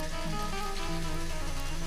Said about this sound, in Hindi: हाँ थोड़ा बारिश है